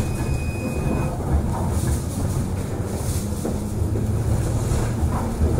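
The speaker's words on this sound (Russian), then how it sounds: "наш трамвай прибыл на конечную станцию" A Moscow tram on route 25, Ostankino to Sokolnicheskaya Zastava, pulls into its terminus with a steady, close rolling rumble and a brief thin squeal near the start, continuing without pause.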